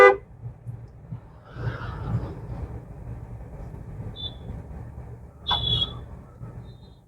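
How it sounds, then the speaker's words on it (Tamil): A car horn gives two short honks several seconds apart over a low, quiet engine rumble. "ஹார்ன் அடிங்க."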